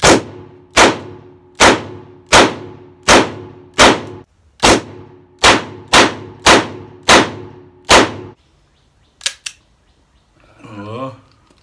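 A new 2020 Colt Python revolver, its ammunition sticking and hard to eject, gives a dozen loud, evenly spaced metallic clacks, then a pause, two quick fainter clicks, and a brief voice at the end.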